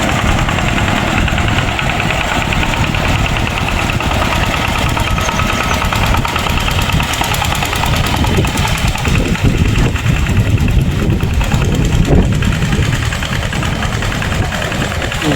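An engine runs continuously and loudly nearby with a steady mid-pitched chugging drone and slight knocking vibration throughout, with no clear speech.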